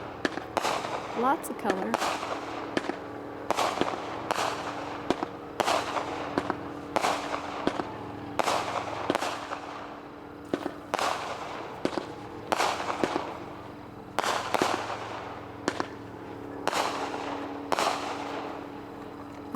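A Bump Bear 16-shot firework cake fires a rapid series of sharp launch thumps and loud crackling breaks in a steady rhythm, with a person briefly speaking over the barrage.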